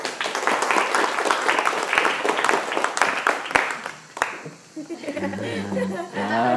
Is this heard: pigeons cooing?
no